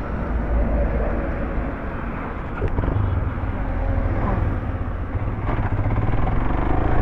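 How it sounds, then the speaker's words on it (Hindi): A Royal Enfield Himalayan 450 motorcycle being started in gear without using the clutch gives a loud, steady engine rumble close by that continues throughout. "ऐसे गियर डाल के स्टार्ट कर रहे हैं बिना क्लच के"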